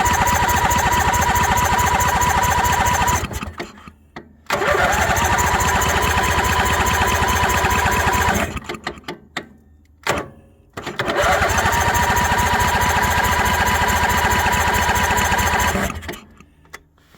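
Ingersoll plow tractor engine cranking after a new battery goes in, in three long loud rattling bursts of the starter and engine, each broken by a brief pause.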